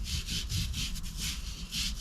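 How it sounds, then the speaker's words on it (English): A small brush scrubs Sonax Extreme cleaner into Alcantara suede in quick, rhythmic back-and-forth strokes, giving a soft, close, scratchy rasp repeated about four times a second. "Now I'm going to use the brush that I have."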